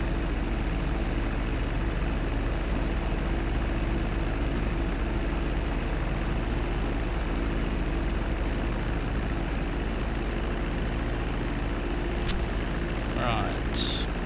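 Airplane taxiing toward the runway at Paleto Bay in GTA V, a steady, continuous engine drone that holds level throughout, with a brief higher whine near the end.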